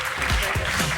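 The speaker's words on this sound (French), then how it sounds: "Applaudissements pour lui" A television studio audience claps for the guest Gérald Darmanin, France's interior minister, on a live show, a short, steady wash of applause.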